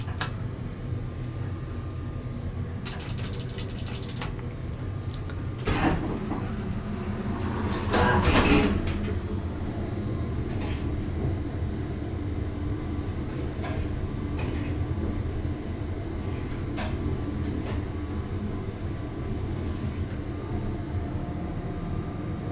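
An Otis hydraulic elevator with a replaced motor rides upward at a resort, a low steady drone and rumble filling the car. A few clunks and a brief louder rattle mid-ride punctuate it, with no talking.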